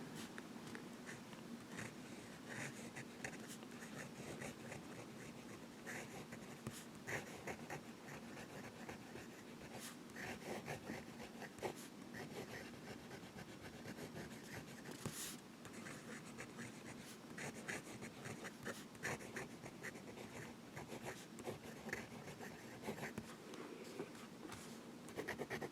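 A Giant Sequoia fountain pen with its stock nib scratches steadily across paper, a soft continuous scritching with small strokes and pauses, faint and close, with no talking.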